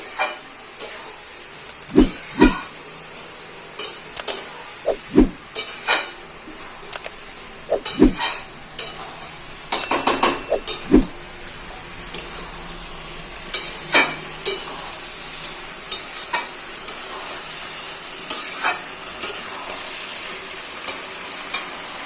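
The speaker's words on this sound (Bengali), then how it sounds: "এবার আমরা ধনেপাতাটা ভালো করে মিশিয়ে নিচ্ছি" Cabbage curry with coriander leaves cooks in a pan while a spatula stirs it, sharp irregular scrapes and knocks over a soft steady sizzle, close and with no voices.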